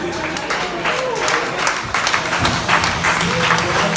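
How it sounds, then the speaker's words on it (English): A comedy club audience applauds a comedian with dense, continuous clapping that holds steady throughout, with faint crowd murmur mixed in. "Keep it clapping right now for the very funny Ruby."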